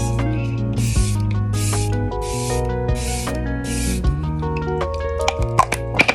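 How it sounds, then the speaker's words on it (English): Five short, breathy bursts of Kiss natural finish setting spray misted onto a face in a steady rhythm, heard over background music. "I spray my face at this stage with my natural finish setting spray from Kiss."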